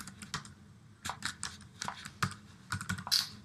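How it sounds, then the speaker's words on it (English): Text is typed on a keyboard in a quick, irregular patter of close, crisp keystrokes, with short pauses and a brief louder burst near the end. No one speaks. "we're going to go ahead and just type some text here."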